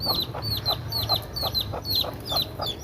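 Chickens cluck while chicks peep in rapid, repeated high chirps, a steady busy chorus close by with a low background hum and no talking.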